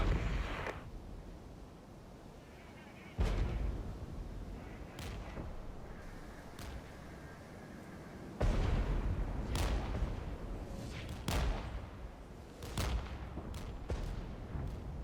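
In the video game Regiments, direct fire lands on a mortar position as a series of faint, irregular booms and thuds. Each blast rises sharply and fades into low rumble, with several impacts spread across the stretch.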